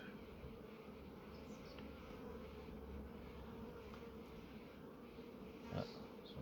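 Agitated bees in a Kenyan top-bar hive make a steady, dense buzzing that is quiet but continuous, with a few louder individual bees zipping close by.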